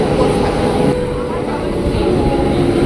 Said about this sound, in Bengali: এই যে আমাদের ট্রেন আসছে